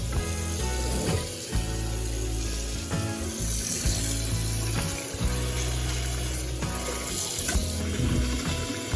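Water runs from a tap into a sink to soak bottles, a steady splashing gush with clattering knocks and small bumps mixed in, fairly quiet and without voices.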